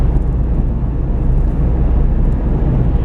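A car engine steadily pulling in fourth gear on a national speed limit road, a continuous loud low drone with road and wind rumble throughout, no voices.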